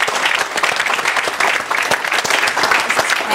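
A small audience in a stuttering-school class applauds, steady dense clapping close by, loud and continuous with a few louder claps standing out.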